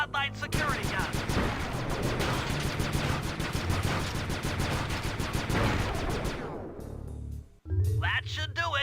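A security gun in a video game fires a long rapid burst of loud, dense shots for about six seconds, then cuts off, followed by a short clank and a low hum.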